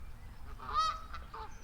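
Canada geese on a lake give a single faint, distant honk across the water amid quiet outdoor ambience.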